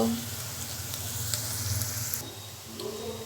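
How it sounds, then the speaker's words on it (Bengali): Chopped onions fry in oil until browned into crisp birista for halim, a steady close sizzle that eases slightly toward the end, with no voices. "এই জন্য পেঁয়াজগুলোকে আমি কুচি কুচি করে নিয়ে এবার ব্রাউন করে বেরেস্তা করে নিব।"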